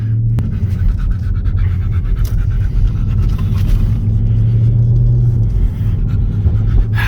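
A car engine opens up while merging onto the interstate, a heavy, droning low rumble that holds steady and swells slightly, heard from inside the cabin with road noise underneath.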